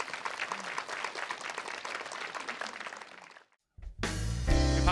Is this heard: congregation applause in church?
yes